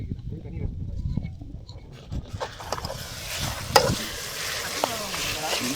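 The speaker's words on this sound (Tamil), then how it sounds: "நல்லா வதக்க வேண்டியதான் இஞ்சி பூண்டு பேஸ்ட்டு." Ginger garlic paste sautéing in a pan for a village-style country chicken gravy, soft sizzling and scraping stirs that build after a quieter start, with a person talking over the cooking.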